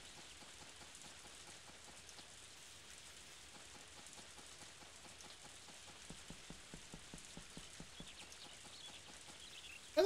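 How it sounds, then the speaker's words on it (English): Rain falls in the Harvest Moon: A Wonderful Life video game, a faint steady patter with soft rhythmic tapping that grows slightly more pronounced toward the end, no talk. "It's just so nice down there with the sounds of the rain in the background."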